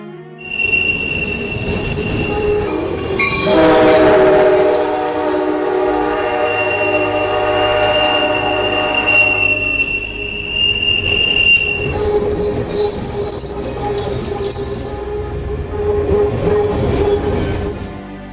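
A train rolls past Milwaukee Intermodal Station with loud, sustained high-pitched wheel squeal that rises and holds over a rumbling rail noise, close by.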